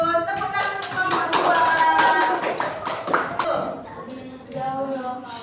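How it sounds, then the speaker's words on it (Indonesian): A classroom of students claps for a group, with a burst of close, lively applause mixed with chattering voices that tapers off and then picks up briefly again. "Tepuk tangan untuk kelompok"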